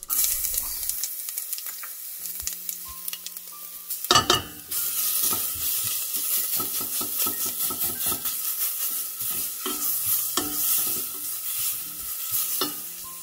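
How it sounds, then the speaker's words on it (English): Garlic and green chili paste frying in oil in a pan, a steady close sizzle with repeated stirring and scraping, a few louder clatters partway through, no talking. "I will add garlic and green chili paste and fry it a little bit to remove the raw"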